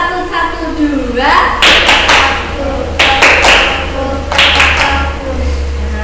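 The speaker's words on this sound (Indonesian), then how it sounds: "Tepuk satu satu dua." Classroom of children clapping a counted one-one-two rhythm, several sharp group claps in clusters over the teacher's voice.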